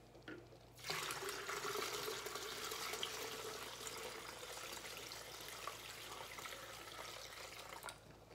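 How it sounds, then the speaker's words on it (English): Kombucha poured through a strainer, a steady close splashing pour that starts abruptly and runs for several seconds before stopping near the end. "And so I'm gonna pour it through the strainer."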